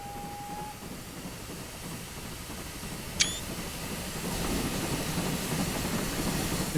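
A GWR 28xx steam locomotive on the Barry Railway in a train simulator game: a steady mechanical rumble and rolling noise that grows slightly louder, with one sharp click partway through.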